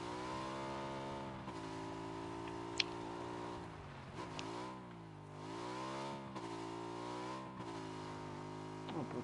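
Motorcycle engine in PUBG, a steady droning hum that rises and falls in pitch as the bike revs and eases off, running continuously without talk.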